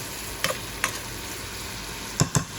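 Garlic shrimp cooking in a pan with a steady low sizzle, broken by a few quick utensil stirs and scrapes, the sharpest pair near the end; fairly quiet and close, with no talking.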